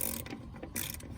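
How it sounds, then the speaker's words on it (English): A ratchet wrench turning valve cover bolts on an engine, a short burst of quick mechanical clicks, close and fairly quiet. "if you had a ratchet wrench that can fit, you can use it, so we're gonna use it"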